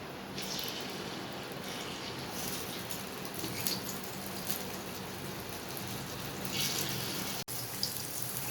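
Paniyaram batter frying in hot oil in a paniyaram pan, a steady close sizzle and crackle running throughout without talk.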